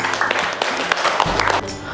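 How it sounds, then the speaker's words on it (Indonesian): A classroom of students claps for a classmate in a short, loud burst of applause that thins out near the end, with a little voice underneath. "tepuk tangan untuk Santi"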